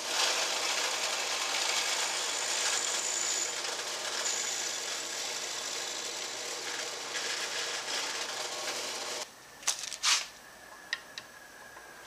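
A handheld router fitted with a bushing bit whines loud and steady as it cuts a guitar bridge template, then shuts off abruptly. A few sharp knocks and clicks follow in the quieter shop.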